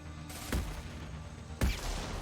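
Two sharp gunshots ring out in a Mass Effect 2 firefight, spaced about a second apart over a quiet hum of game ambience, each a sudden broadband crack that fades quickly.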